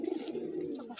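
Pigeons at a fancier's loft in Allahabad give soft, low throaty coos in a short continuous burble, close and moderately quiet, with no talk over it.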